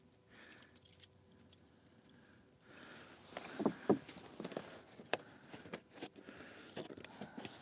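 Water poured slowly and carefully at a cold, windy winter camp beside a hot tent, a few soft splashy trickles rising in the middle and fading, faint and close.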